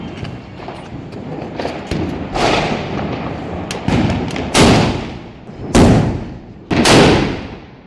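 Diwali firecracker bombs burst outdoors in several loud, sharp bangs, the last three spaced about a second apart, each with a booming tail, amid crowd background noise and earlier smaller pops.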